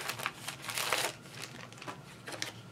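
Plastic-like material being cut off a roll for a giant clothespin picture clip craft, heard as crinkly rustling and crunching bursts, loudest near the middle and again toward the end, close and alone.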